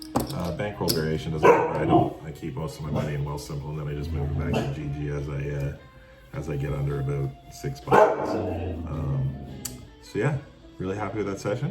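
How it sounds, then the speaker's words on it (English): A pet dog barks and whimpers to be let outside, several short yips and barks scattered under someone talking steadily in a room nearby. "That's the dog saying it's time to go out"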